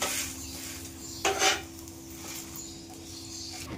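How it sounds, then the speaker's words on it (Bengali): A sandwich flipped on a hot tawa in a home kitchen, a brief scraping clatter of utensil on the pan rising over a faint steady background hum, then quieter rubbing. "এক পিঠ ভাজা হয়ে গেছে, আরেক পিঠ উল্টে দিচ্ছি"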